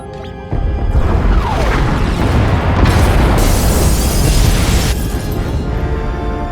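Pod bays blowing apart in Star Wars: The Old Republic, a loud, sustained roar of explosions with crashing, shattering debris rumbling on for several seconds, close and overwhelming, no voices.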